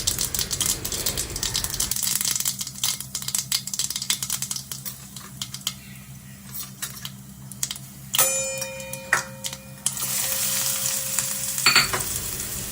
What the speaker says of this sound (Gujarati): તેલ ગરમ થઈ જાય એટલે ગેસની ફ્લેમ ધીમી કરી દેવી અને ત્યારબાદ તેમાં હાફ ટીસ્પૂન રાઈ જીરું અને હિંગ નાખવા વઘારમાં